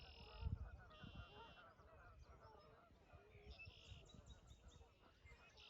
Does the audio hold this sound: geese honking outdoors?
yes